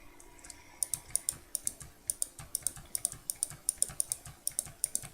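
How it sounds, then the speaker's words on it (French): Rapid, steady computer keyboard typing with mouse clicks mixed in, close and fairly quiet, a continuous run of crisp key taps during a Minecraft building session, no talking. "les clics de souris et quand j'appuie sur le clavier"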